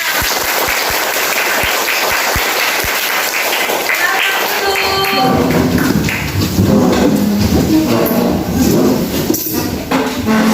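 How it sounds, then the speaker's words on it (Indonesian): Classroom clapping led by a teacher: a run of about eight sharp, evenly spaced rhythmic claps, then a louder burst of mixed clapping and children's voices. "Tepuk tangan."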